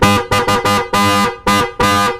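A loud motorcycle horn, being tested, honks in a series of bursts: three quick short beeps, then two longer blasts and one more, close and harsh with no talking.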